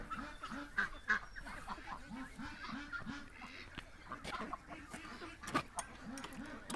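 Canada geese in a pen give a rapid run of repeated honks, loud and near, mixed with clucking from nearby poultry and an occasional faint voice.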